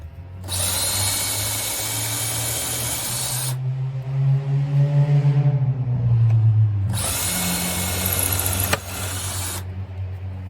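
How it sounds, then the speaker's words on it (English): A power drill runs at high speed while drilling during an exterior door and frame installation, two loud whining bursts separated by a lower grinding, slowing stretch as the bit works through, close and alone. "we're gonna put it on high speed and drill"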